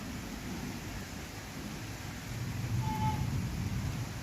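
Steady broadband hiss of heavy rain with a low rumble swelling in the second half, constant and close, no voices.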